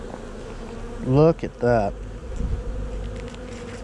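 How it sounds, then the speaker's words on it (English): A steady, dense insect buzz of many agitated bees in a hive during nuc installation fills the background throughout, with someone briefly speaking over it near the middle. "That is a lot of bees, and they are not happy."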